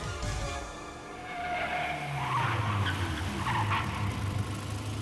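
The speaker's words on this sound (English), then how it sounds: "The rear tire slipped. The car spun in a circle." Car tires skidding and squealing as a car spins in a circle in the visual novel game Steins;Gate 0, a sustained loud screech with engine rumble underneath that swells midway and holds to the end.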